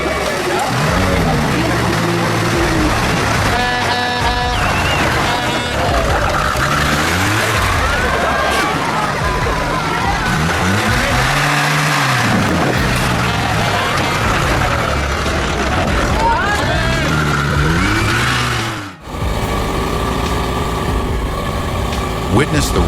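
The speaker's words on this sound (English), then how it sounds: "Dust billows, engines roar, and giant wheels crunch the fine sand." Heavy off-road truck engines rev and roar loudly on sand dunes, rising and falling in pitch as the trucks power along, with a voice speaking over the constant motor noise.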